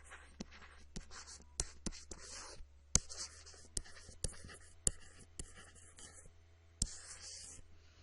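Pen or pencil writes out a geometry proof chart on paper, close and quiet, with bursts of scratchy strokes broken by sharp taps and pauses between words.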